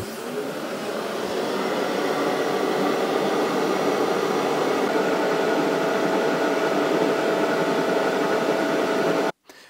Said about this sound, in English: the amount of vacuum we are actually getting if you would want to use your shop vac